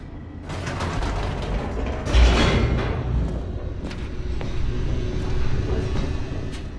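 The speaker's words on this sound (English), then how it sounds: "The elevator raced downward, plummeting towards an unknown fate" An elevator descends in the video game The Stanley Parable: a steady low mechanical rumble with faint creaks and ratcheting clicks, and a brief louder whoosh-like surge near the middle, sustained throughout with no voices.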